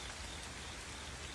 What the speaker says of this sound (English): It has been raining for hours.